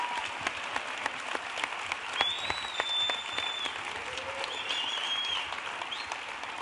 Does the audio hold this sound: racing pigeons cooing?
no